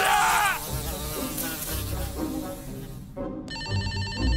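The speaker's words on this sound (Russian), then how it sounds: "Вот тут у нас большой-большой мух." A big fly buzzes steadily and close in the Backrooms video game, droning over a low rumble. A telephone's electronic ring cuts in near the end.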